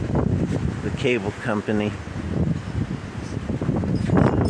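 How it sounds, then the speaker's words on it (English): Strong wind during a windstorm roars as a steady, loud broadband rush against the microphone throughout, while someone talks over it. "crazy weather we're having. Really windy."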